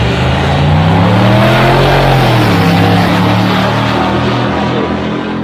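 Drag racing cars, including 1969 models, launch down the strip at a Sick Week event. The loud engines roar with rising, sweeping pitch that fades slightly as they pull away, with no voices.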